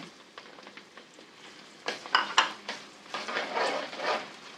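Tomatoes go into softened onions in a pan and are stirred for aloo palak: a soft sizzle with scraping spoon strokes that builds louder in the second half, with no talking.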